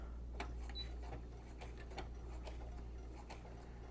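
A sewing machine fitted with an invisible zipper foot sews in a zipper held with pins, giving a steady low motor hum with soft, regular ticking stitches throughout, quiet and close.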